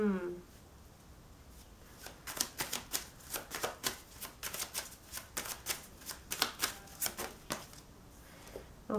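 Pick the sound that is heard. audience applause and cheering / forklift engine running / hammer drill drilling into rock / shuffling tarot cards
shuffling tarot cards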